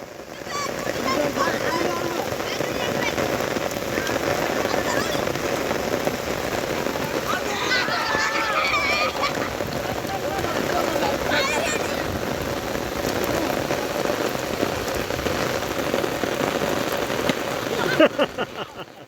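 Summer rain falls steadily on a new open playing ground, a dense, continuous patter that lasts throughout, with voices heard faintly beneath it.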